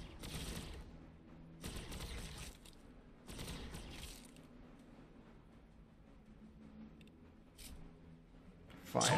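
Gunfire from the Warhammer 40k Battlesector strategy game: three broad bursts of heavy fire, each roughly a second long, spaced a couple of seconds apart, followed by a low rumbling bed and a faint sharp crack at the end.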